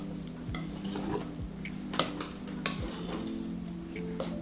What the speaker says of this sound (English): Scrape the rest of the meringue in.